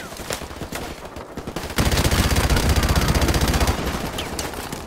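A machine gun firing in Call of Duty: Modern Warfare Remastered: a dense, loud, fast-rhythm stream of shots that grows heavier after a couple of seconds and keeps rattling steadily to the end.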